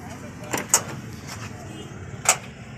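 Someone checks the left door of a 2009 Suzuki Alto VXR, giving a few short close mechanical clunks and latch clicks amid faint background noise.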